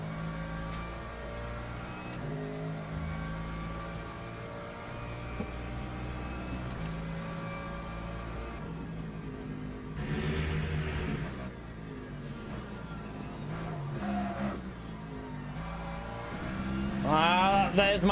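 LMGT3 race car engine in Le Mans Ultimate at Silverstone National, a steady droning engine tone that rises and falls through gear changes and revs, quiet and continuous, with occasional talk over it.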